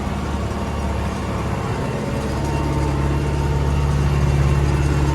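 The engine of an MTZ 82.1 tractor ploughing drones steadily and low, straining under load, with its pitch holding constant and a deep hum running throughout.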